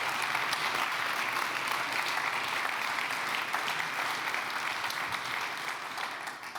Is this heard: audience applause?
yes